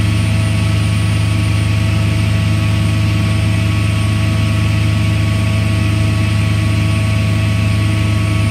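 A deep, steady ferry engine drone rumbles continuously and loudly, with a constant low hum and no pauses.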